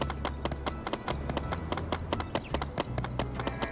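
Horse hooves clip-clopping at a steady trotting rhythm in the farming-life video game My Time at Sandrock, a run of sharp, evenly spaced hoof taps over a low continuous background hum, fairly close and clear.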